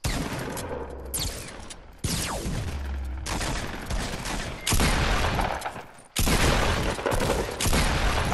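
Repeated bursts of gunfire and explosive booms in the Fortnite battle royale game, loud close shots in clusters separated by brief gaps, with no talk over them.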